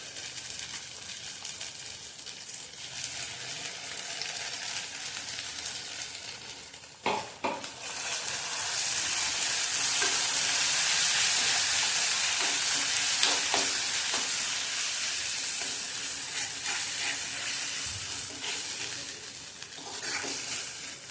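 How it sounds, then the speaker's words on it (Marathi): Tomato and chickpea gravy fries in oil for a spicy black chickpea masala, a sustained sizzling hiss that swells after a few spatula scrapes and clanks, then continues steadily with occasional stirring knocks. "आता आपण टोमॅटोची आणि चण्याची ग्रेव्ही करून घेतलेली ती भाजून घेणार आहोत तेल सुटेपर्यंत"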